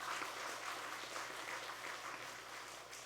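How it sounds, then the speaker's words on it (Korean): Church congregation clapping for the choir after a hymn at a Sunday morning service, an even wash of many hands heard from a distance, fairly soft and steady. "다시 한번 박수 한번 하겠습니다."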